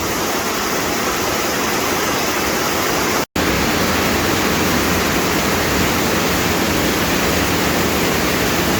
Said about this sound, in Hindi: मेरी आवाज़ ना भी सुने तो झरने का गीत सुने।